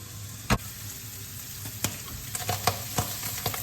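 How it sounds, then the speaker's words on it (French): Black-eyed beans frying in a pan with tofu, hot chili and turmeric: a steady low sizzle with scattered sharp pops and crackles, close and moderately quiet, no voices. "Je vais rajouter aussi au tofu et au piment fort et au curcuma les haricots."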